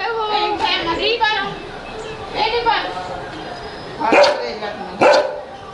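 A dog on a Goa beach outing barks and yips in several short sharp bursts, close and loud, with quieter whimpering sounds between them.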